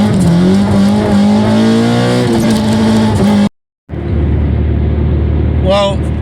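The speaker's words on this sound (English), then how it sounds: "first gear roll turned into a 3rd gear burnout" A K24-swapped car, a DB8, roars through a third gear burnout on a damp road, a loud rising engine tone that cuts off abruptly, then resumes with a brief tire squeal.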